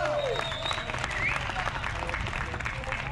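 Audience applause at a poetry and music evening, dense continuous clapping with some voices and whistles mixed in, steady and fairly close throughout.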